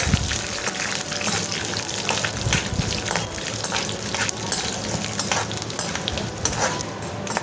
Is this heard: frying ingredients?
yes